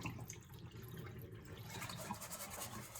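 Water pours steadily from a tap into a pan while cooking a pork and cabbage stir fry, a continuous close splashing fill with no talk.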